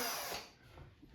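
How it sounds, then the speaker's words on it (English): A power drill whirs briefly while pre-drilling plywood with a small bit, a short faint burst that fades out. "this is just me pre-drilling the ply"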